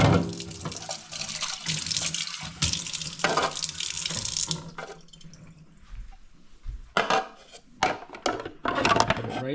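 Tap water splashes into a sink as parts of a coffee maker are rinsed: a loud stream at first, then quieter drips, clinks and a second burst of water.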